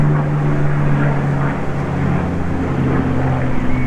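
A propeller aircraft drones overhead above a woodland bushcraft camp, a loud, steady hum that holds unchanged throughout.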